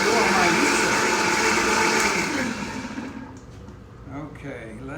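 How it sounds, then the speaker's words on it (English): A kitchen blender whirs loudly while mixing a creamy dressing, a steady roar that winds down and cuts off partway through, leaving quieter kitchen sounds after. "Absolutely nothing wrong with the blender today."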